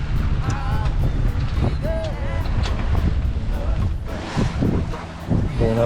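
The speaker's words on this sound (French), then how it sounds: "On a le vent qui vient de cette direction-là." Strong wind roars across the microphone aboard a sailing boat underway at sea off Elba, a loud continuous buffeting rush mixed with water noise and occasional creaks, with a voice faintly underneath.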